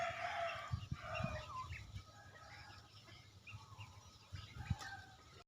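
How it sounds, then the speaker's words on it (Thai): Seven or eight chickens with chicks cluck and peep in a close, busy farmyard chorus, with scattered louder clucks over a steady low murmur of the flock. "มีอยู่เจ็ดแปดตัวนะครับ ก็มี ไก่ชิวกี้เข้ามาแทรกด้วย"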